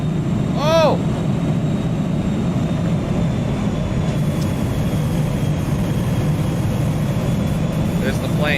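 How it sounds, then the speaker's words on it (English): A loud airplane roars past in the video game PowerWash Simulator, a dense, steady rumble filling the whole clip beneath a brief game chime. "There's the plane."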